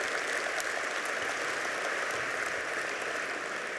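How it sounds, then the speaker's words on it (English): Distant, steady applause from a large audience at an annual meeting fills the room. The sound is a dense, even wash of clapping at moderate loudness with no talk over it. "Could we give them a round of applause?"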